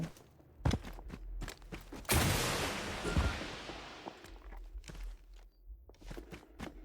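Gunfire in the shooter Delta Force Mobile: a few sharp bangs, one followed by a long noisy burst and rumbling tail, then lighter thuds and steps, fairly faint overall.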